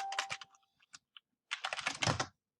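Keystrokes on a computer keyboard typing a search query for Mexican food, a quick rattling burst, a pause with a few isolated taps, then a second denser flurry of clicks, close and fairly quiet.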